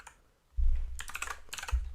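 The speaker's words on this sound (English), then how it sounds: "Okay, Varun is typing" Computer keyboard typing, a burst of quick clicking keystrokes in an irregular rhythm after a short quiet start, close and clear.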